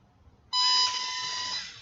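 A sharp electronic horn tone from a Lego Mindstorms robot kit beeps on suddenly, loud and steady, holding for over a second before fading slightly.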